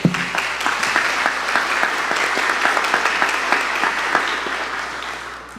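Audience applause at a church tribute ceremony, a dense, steady clapping from a crowd sustained for several seconds before thinning out at the end.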